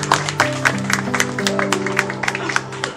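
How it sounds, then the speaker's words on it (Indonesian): A community gathering for the Saung Bonsai Setu bonsai group breaks into scattered clapping from a small crowd, steady and moderately close, while a sustained musical tone and murmuring voices carry on underneath. "saya minta aplaus buat teman-teman Saung Bonsai Setu"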